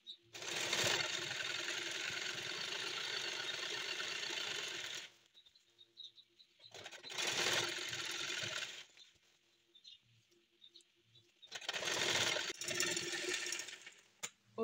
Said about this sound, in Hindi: और अंदर की तरफ से और थोड़ा फोल्ड करके और इस पर सिलाई लगा देंगे